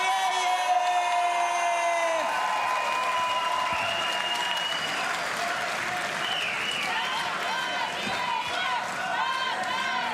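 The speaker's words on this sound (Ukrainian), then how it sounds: "Вітайте гучними оплесками." A crowd at a professional boxing event greets a fighter's debut with loud, sustained applause and some whoops. It carries on steadily throughout under an amplified voice and tonal background sound.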